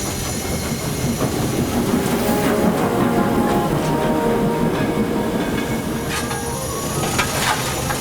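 A steam locomotive rolls steadily along with a continuous low rumble and rhythmic clatter of wheels on track, close by and fairly loud throughout.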